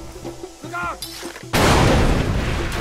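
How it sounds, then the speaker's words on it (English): A grenade blast in Far Cry 2 bursts out loud and close after quieter in-game engine and bike sounds, a broad roaring explosion that rumbles on and slowly fades. "Grenade."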